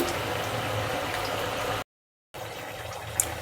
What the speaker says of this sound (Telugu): ముల్లంగి బజ్జీలు అయితే బాగా వేగిపోయినాయి చూడండి బాగా కలర్ వచ్చినాయి